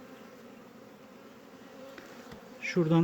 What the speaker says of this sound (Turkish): işte şimdi çıkan bir tane karniol cinsi ana arıyı gördünüz